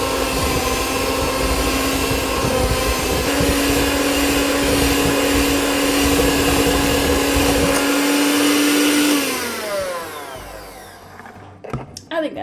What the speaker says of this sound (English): let's just mix the 1 cup of sugar and 3 overripe bananas until you get a good mixture